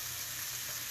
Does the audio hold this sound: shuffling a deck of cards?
no